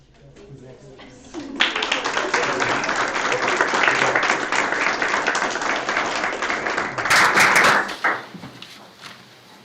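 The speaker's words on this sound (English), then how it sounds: "So a round of applause for our students." A crowd claps steadily for several seconds at a school board meeting, the applause swelling briefly near the end before fading out, with some voices mixed underneath.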